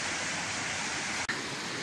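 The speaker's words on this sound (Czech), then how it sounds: "Na Zbirošském potoku tady vytváří se soustava kaskád" Water rushes continuously over a series of cascades on the Zbiroh stream near the Skryje pools, a steady dense close roar with a brief click partway through.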